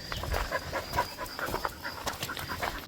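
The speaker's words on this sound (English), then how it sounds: "Is that my beautiful puppy?" Farm puppy panting up close in quick, rhythmic breaths, with small whimpers and faint outdoor noises around it and no talk.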